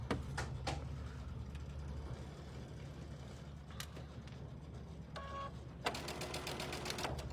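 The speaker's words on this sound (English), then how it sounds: "who's sewing so slow?" A sewing machine stitching slowly during a placemat quilting session, with faint intermittent mechanical taps and a short rapid burst near the end over a low background hum.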